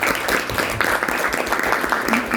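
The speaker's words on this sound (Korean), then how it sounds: "큰 박수로 맞이해 주십시오." A room audience applauds to welcome a speaker at a business networking chapter presentation, a dense, even clatter of clapping hands that holds steady through the short span.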